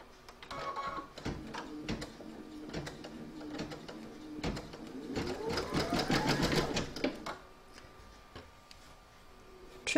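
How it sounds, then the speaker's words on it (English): An embroidery sewing machine stitches the first anchoring stitches of an in-the-hoop pouch, a rapid mechanical whirring and ticking that rises into a dense burst of stitching before slowing to a light hum, close and alone. "you can now stitch the first few stitches to anchor it"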